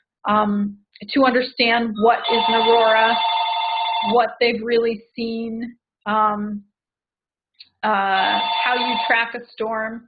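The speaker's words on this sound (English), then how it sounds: "Sorry, that's my phone in the background." A mobile phone rings in the background, a repeated electronic ringtone in several bursts that sits under and between a man's steady presentation speech.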